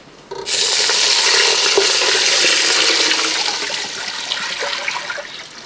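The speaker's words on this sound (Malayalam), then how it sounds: "അപ്പോൾ ആദ്യമേ ഒരു കപ്പ് വെള്ളം അങ്ങോട്ട് ഒഴിക്കാം" A cup of water is poured into masala frying for a Malabar-style chicken biryani, setting off a sudden loud, sustained hissing sizzle that stays strong for several seconds and then slowly eases.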